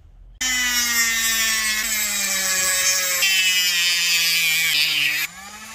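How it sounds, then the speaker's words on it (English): A power tool trims a rubber leaf spring insert back to its first groove line, a steady high whine with a gradually falling pitch running continuously for about five seconds, loud and close, with no talk. "I'm going to trim it up to that line, that first groove line, and then I'm going to taper it out"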